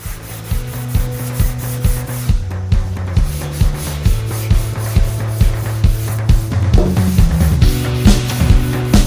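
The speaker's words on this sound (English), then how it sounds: "I'm just gonna keep sanding to crisp that up" Rhythmic sanding strokes on primer over a car body scrape back and forth in a steady beat, loud and close, over continuous music.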